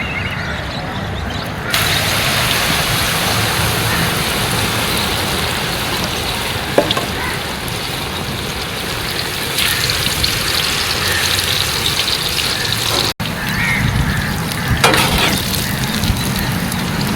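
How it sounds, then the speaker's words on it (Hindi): A big batch of potato fries, from a 10 kg lot, half-fries in hot oil with a loud, continuous bubbling hiss and a brief break in the middle. "अब हम इसमें फ्राइज को हाफ फ्राई करेंगे।"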